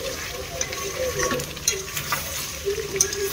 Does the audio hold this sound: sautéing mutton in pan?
yes